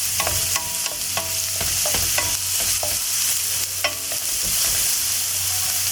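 Canned corned beef fries in a pan with softened onions, giving a steady close sizzle broken by repeated scraping and clattering stir strokes, with no talking.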